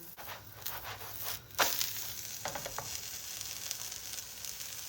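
Akıtma flatbread dough sizzles and crackles steadily in a hot pan, with a few sharper bursts of frying noise partway through; no voices.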